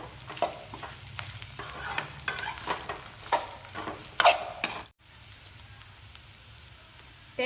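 Grated coconut and tamarind sautéing in a pan for pirandai thuvaiyal, a bright crackling sizzle with repeated spoon scrapes and stirs, dropping abruptly to a quieter, softer simmer midway.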